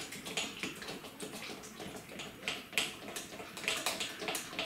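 Flour being stirred into liquid for homemade kvass made with a store-bought starter, heard as a continuous wet swishing and sloshing with rhythmic scraping strokes, close and moderately loud.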